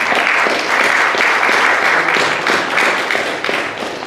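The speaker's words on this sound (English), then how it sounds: "Let's give them a round of applause." Audience applause at a Howell Township board of education meeting, dense and loud clapping that holds steady and then tapers slightly toward the end.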